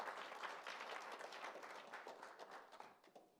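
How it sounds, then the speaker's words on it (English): An audience at a student government senate meeting at Iowa State applauds, a soft, fairly distant patter of many hands that gradually thins out over a few seconds. "I think that deserves another round of applause."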